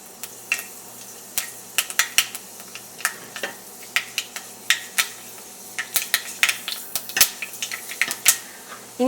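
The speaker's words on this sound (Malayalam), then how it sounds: "ഉലുവ ഇപ്പോൾ പൊട്ടും." Fenugreek seeds crackling in hot oil in a pan while starting a pumpkin and red lentil curry: a steady scatter of sharp pops and snaps over a low sizzle, close and fairly loud, with no talking.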